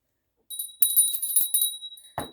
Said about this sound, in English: I'm going to ring a bell, so you might want to mute your volume.